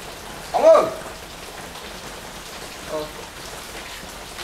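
Steady rain patters on a surface throughout, with a brief louder voice near the start and a fainter one later.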